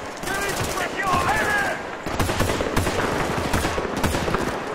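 Rapid gunfire bursts in the war shooter game Battlefield: Bad Company 2, a dense chattering volley loud and close, with other battle sounds and a voice mixed underneath.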